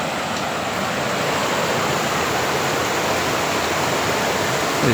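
River flowing below a scenic overlook among rocky cliffs, a steady broadband rush of water, constant and fairly loud with no voices.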